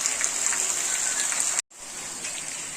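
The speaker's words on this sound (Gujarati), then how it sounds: "અને સરસ મજાનો વરસાદ પડી રહ્યો છે" Steady rain hisses continuously on surfaces, with a brief dropout midway before the downpour resumes.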